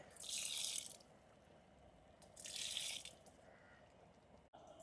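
Water is poured into a pot of tribal-style goat head curry on a stove, two short splashing pours about two seconds apart, close but fairly quiet against a low background hum.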